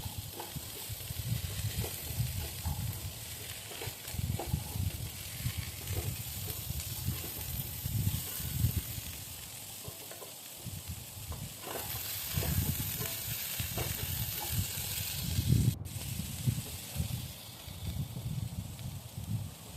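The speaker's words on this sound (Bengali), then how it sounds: "খুব কড়াভাবে নয় কিন্তু লাইটভাবেই ভাজতে হবে" Mixed vegetables fry lightly in a pan with a soft, steady sizzle and frequent stirring scrapes throughout, moderately quiet and close, with no voices.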